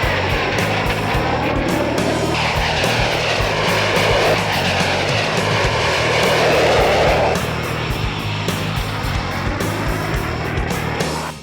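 Propeller and jet aircraft racing each other around pylons, a loud continuous engine roar and whine that swells as they pass close by, steady and dense throughout.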